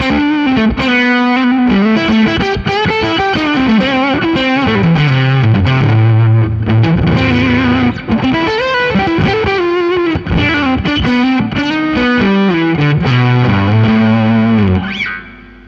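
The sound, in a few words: electric guitar through pedalboard with drive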